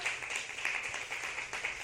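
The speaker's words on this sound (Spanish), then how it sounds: "Le da un aplauso al Señor en esta hermosa tarde." A church congregation applauds during a service, a dense, steady wash of many hands clapping, fairly faint and continuous with no talking over it.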